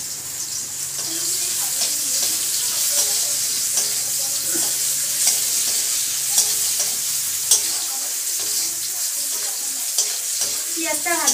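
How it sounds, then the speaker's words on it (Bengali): Onions salted in a pan for a Bengali chicken and potato curry sizzle and fry steadily, with irregular stirring scrapes running through the continuous hiss at a moderate, even level. "পেঁয়াজটা ভাজা ভাজা হয়ে যায়"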